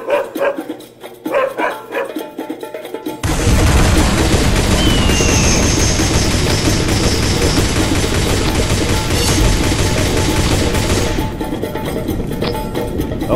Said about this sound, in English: I will be using my death beams to destroy these guys